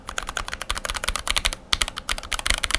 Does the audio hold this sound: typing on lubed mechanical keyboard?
yes